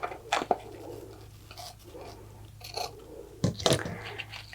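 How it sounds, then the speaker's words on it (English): Scissors cut ribbon for a dollar-store Christmas craft in a few quiet, separate snips spread over several seconds. "So we'll just cut the ribbon to length."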